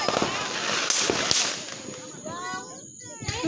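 Fourth of July fireworks bang and crackle nearby in sharp bursts, followed by whistling, fizzing trails. The display is loud and layered, with voices reacting over it.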